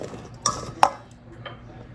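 Sweet potatoes and butternut squash with spices being stirred in a bowl, with two sharp clinks of a utensil against the dish and a softer scrape, close and fairly quiet.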